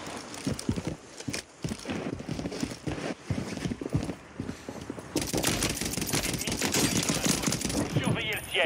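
Powerful gun firing in a first-person shooter game, with a steady stream of loud rapid shots and impacts running throughout and a voice talking over it.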